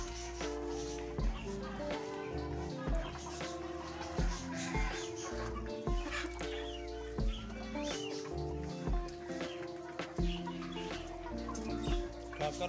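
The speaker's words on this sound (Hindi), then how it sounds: "दूसरा चूजा किधर है?" Chickens and chicks cluck and cheep busily at feeding time, a close, continuous chorus of short clucks and calls with occasional human voices in the background.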